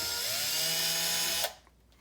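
A Porter Cable cordless drill runs in reverse to back off its chuck, a loud, close motor whine that rises slightly in pitch and then stops abruptly.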